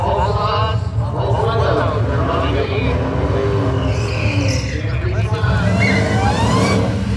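A Dodge Hellcat muscle car revs loudly on a drag strip, its engine pitch climbing and surging in rising sweeps. People talk over it close by throughout.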